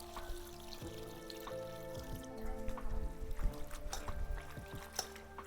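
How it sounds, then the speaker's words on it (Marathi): Leafy wild greens washed by hand in water, with splashing, pouring and sloshing sounds; close and moderately quiet, with irregular bursts of handling and trickling and a few faint tonal clinks. "आता पहिलं पाणी टाकीते दोन तीन पाण्यानं चांगली धुवून घेते"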